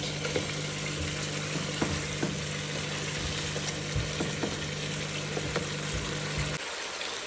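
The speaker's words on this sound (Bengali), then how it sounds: "এই মশলাটার সাথে চার থেকে পাঁচ মিনিট আমি এভাবে একটু কষাবো" Spice masala sautéing in a pan for a chicken and spinach dish, a continuous close sizzle with scattered stirring clicks and scrapes, cutting off abruptly near the end.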